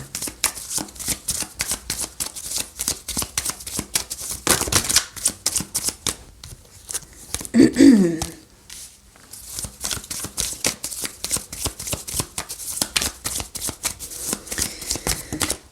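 Line of Love oracle cards being shuffled by hand: rapid, close riffling flutters in repeated bursts, with a brief pause and a soft thump partway through.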